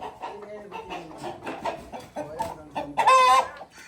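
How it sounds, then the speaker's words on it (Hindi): Aseel rooster and hens clucking close by in a farm yard, with a steady run of short clucks building to a louder, drawn-out call near the end. "ये वो है असील मुर्गा"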